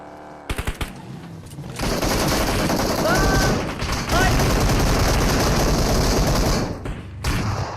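Rapid bursts of machine gun fire in a tank-combat video game, loud and nearly continuous, with layered gunfire and brief gaps, while a voice talks over parts of it.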